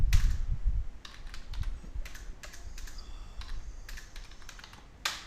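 Fingers type on a computer keyboard in quick bursts of close, crisp key clicks, opening with a few heavier thumps and ending on a sharper clack.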